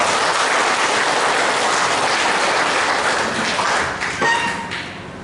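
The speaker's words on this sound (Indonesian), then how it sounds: "Beri tepuk tangan untuk Pak Andi." An audience at a leadership and coaching bootcamp seminar in Solo claps steadily to welcome Pak Andi. The applause is loud and continuous for about four seconds, then thins out with a few scattered last claps and soft thuds.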